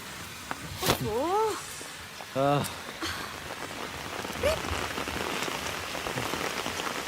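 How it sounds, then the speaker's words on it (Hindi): Rain falls steadily, a dense continuous patter on surfaces that stays even throughout, with voices speaking briefly over it. "I just love the rain."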